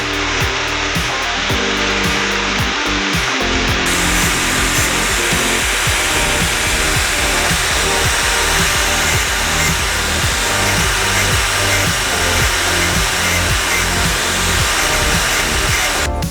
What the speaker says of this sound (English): I was drilling with a small drill